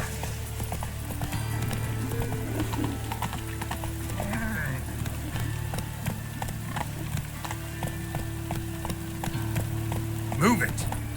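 In The Witcher 3, a horse gallops with a steady rhythm of clip-clopping hooves that stays close and even throughout, and someone talks briefly over it.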